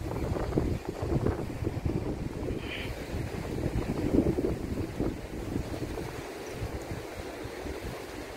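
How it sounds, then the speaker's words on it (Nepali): Cold wind gusts across the microphone outdoors in Akko, Israel, under a cloudy sky, giving a low, buffeting rumble that swells and eases unevenly. "चिसो हावा चल्दैछ"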